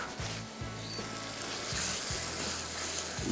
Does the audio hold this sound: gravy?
yes